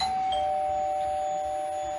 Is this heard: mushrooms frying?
no